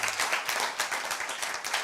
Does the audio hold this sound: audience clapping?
yes